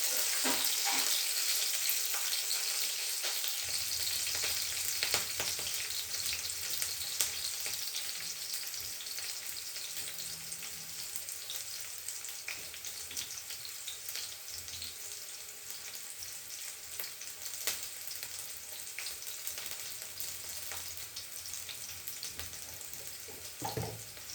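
Chopped onions and green chilies sizzling in hot oil in a pan as they are stirred, with a steady bright crackle and occasional scraping of the spoon, close and continuous without talk.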